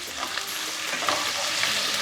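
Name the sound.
onions frying in pan until brownish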